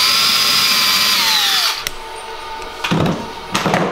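A power drill runs loudly into thin willow wood, pre-drilling for a chair, its pitch dropping as it slows and stops, followed by a few short clunks and bursts of handling noise.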